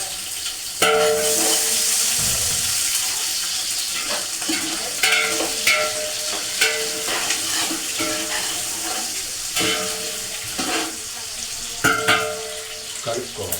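Onions, carrot and green chillies for biryani are stirred in a sizzling frying pan, with a steady hiss of oil and repeated scraping clinks of the spoon against the pan, close and clear.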